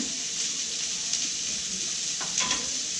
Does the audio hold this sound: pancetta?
yes